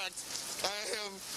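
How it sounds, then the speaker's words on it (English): Heavy rain pours down steadily outdoors at a state election collation centre, a dense continuous wash under a voice speaking close by. "It's raining cats and dogs"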